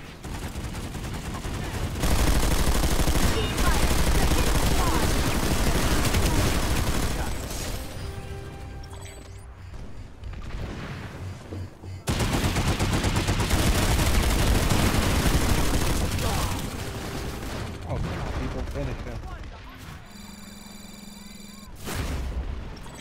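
Video game gunfire in bursts: loud rapid automatic shots and booms for several seconds, a brief lull, then another long barrage, ending with quieter electronic game sounds.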